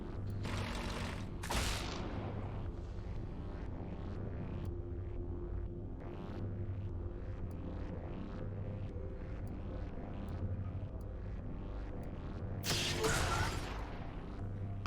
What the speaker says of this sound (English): The shield did indeed block the explosion.